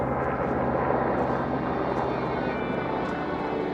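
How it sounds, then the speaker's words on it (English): Military helicopters flying over the Pech Valley in Afghanistan, a steady, loud, dense rotor and engine roar filling the whole stretch without pause, with faint rhythmic pulsing beneath. "The helicopters return again and again to see if the munitions lying out in the open are destroyed"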